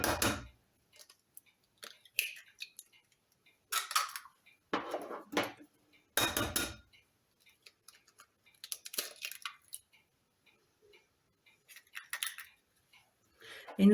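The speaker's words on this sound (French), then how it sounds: "Nous allons casser nos 3 œufs." Three eggs being cracked for a flan in a home kitchen, a series of sharp separate taps and cracks with scraping shell and clinks between them, close and otherwise quiet.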